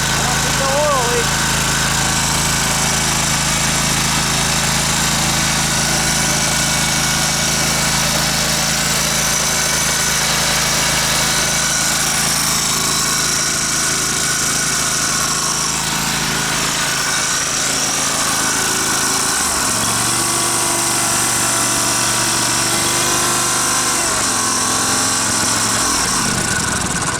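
The engine of a Dixon 72 ZTR zero-turn mower runs loudly and close for the whole stretch under repair, with a steady drone that shifts pitch partway through, as if it falters.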